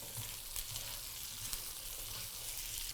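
Onion and carrot fry in a Breville Hot Wok electric wok, giving a steady close sizzle with faint stirring and no talk.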